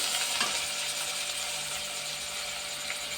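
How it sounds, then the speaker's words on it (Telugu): Brinjal pieces going into a hot pan and frying, a steady close sizzle with faint stirring scrapes, no voices. "వేగిన మటండి ఇవి వంకాయ ముక్కలు వేసేస్తున్నాండి"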